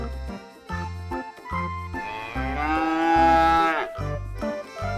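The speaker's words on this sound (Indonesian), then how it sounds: "Ibu dari sapi Australia teman-teman" A large, fat Australian mother cow lets out one long, loud, drawn-out moo, close by, with rhythmic jingling and music-like tones around it and no talk.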